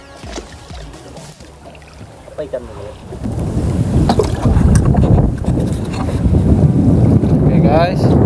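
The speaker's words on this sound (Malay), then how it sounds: "angin sudah datang kencang" Strong wind gusting over open sea off Kuala Penyu, Sabah, on a small fishing boat, building to a loud, continuous roar of wind noise and rushing water after a quieter start.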